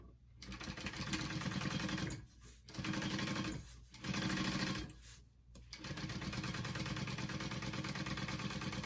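A sewing machine top-stitches a mini backpack in several runs, its motor humming and needle chattering steadily, with brief pauses between bursts before a longer continuous stretch.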